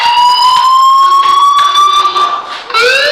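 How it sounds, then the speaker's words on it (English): A loud, piercing electronic fire alarm tone in the video game Life Is Strange sounds continuously, with a steady pitch that briefly dips and then resumes near the end. "do you hear that fire alarm?"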